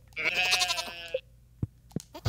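Livestock in the Stardew Valley farming game bleat with a sheep- or goat-like cry, one long wavering call up front followed by a few short clicks and soft taps.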